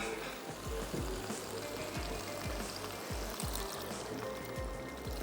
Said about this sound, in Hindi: मैं पानी ऐड कर देती हूँ।